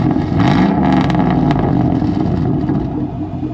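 A Chevrolet Silverado pickup fitted with a large TSO exhaust tip idles close by with a deep, loud, steady rumble that fades slightly toward the end.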